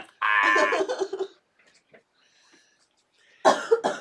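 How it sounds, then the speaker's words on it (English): A person coughs in a loud, raspy burst at the start, followed by quiet near-silence and then another short, harsh cough near the end. "I had a cough that I was holding in"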